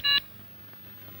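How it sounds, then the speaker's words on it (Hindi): A single short electronic beep from a telephone being dialed to reach the police commissioner in a 1984 Hindi film scene, clear and brief at the start, followed by faint room tone. "अभी फोन कर देता हूँ पुलिस कमिश्नर को"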